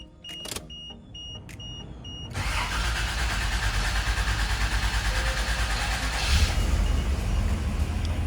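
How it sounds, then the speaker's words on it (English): Toyota 80 Series Land Cruiser with 226,000 miles starting up: a few clicks and chimes, a short crank, then the engine catching into a steady, close, rumbling idle. "start it up and listen to the engine"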